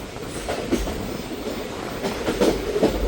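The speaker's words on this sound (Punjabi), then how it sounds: "ਆਪਣੀ train platform number 1 Ambala ਸ਼ਾਮਨੀ railway station ਪਹੁੰਚ ਗਈ ਆ" A passenger train, Kalka–Ambala Cantt no. 54532, rolls steadily into Ambala station platform 1, with rhythmic clattering of wheels over rail joints and a continuous low rumble.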